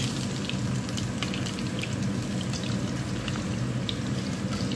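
Pakoras of gram-flour batter with onions fry in hot oil, giving a steady, dense sizzle throughout with faint crackles on top.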